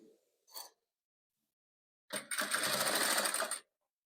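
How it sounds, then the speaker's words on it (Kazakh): Sewing machine stitching patchwork squares together, a short tap followed after a pause by a steady whirring run of about a second and a half, close and quiet, with no voice. "Мына енді жанына мына нелерді тігіп аламыз"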